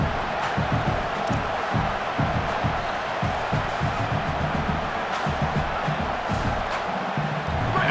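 Home crowd at a football game cheering and roaring in a continuous loud swell, with whoops and shouts rising from the stands.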